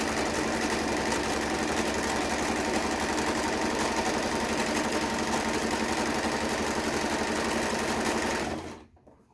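A sewing machine runs steadily while stitching a fabric face mask, a continuous close mechanical whir with rapid needle rhythm that holds for several seconds, then stops abruptly near the end.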